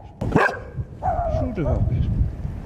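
Abandoned dogs in a war-torn town give a few short barks and yips close by, mixed with a person speaking over them.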